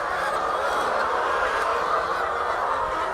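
Chickens in a coop on a poultry farm, a dense, continuous chorus of clucking and squawking from many birds, fairly loud and close, with no clear talk.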